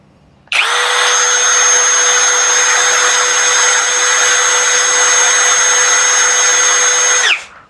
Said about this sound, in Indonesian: speed low